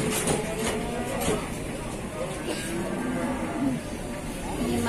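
Cattle mooing amid a noisy, crowded outdoor cattle market, with people chattering steadily in the background.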